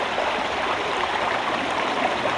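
A highland brook flowing, a steady close rush and babble of water with no pauses, fairly loud and alone.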